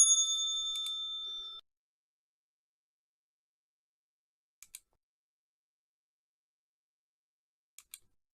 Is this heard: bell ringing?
yes